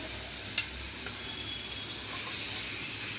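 Beaten egg poured into a hot frying pan and stirred into a cooking mixture: continuous close sizzling hiss with a brief clack of the utensil early on, no talking.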